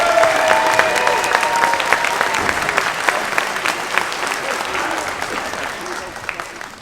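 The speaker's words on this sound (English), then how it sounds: "Let's give him a big round of applause, shall we?" An audience at an FRC robotics regional opening ceremony gives a loud, sustained round of applause, dense clapping that slowly tapers, with some voices mixed in.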